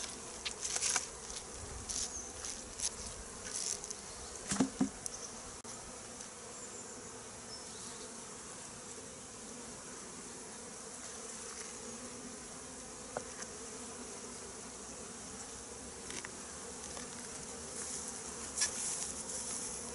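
Honeybees at a hive being readied for winter, with reflective partitions on each side, give a steady low insect hum throughout. A few louder buzzing passes come close, and brief faint taps occur here and there.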